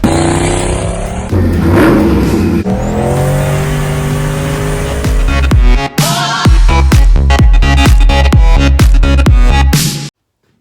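Turbocharged LS engine in a car with a failed transmission, revving loud and close: a long sustained drone, then a rapid series of sharp blips and cuts toward the end.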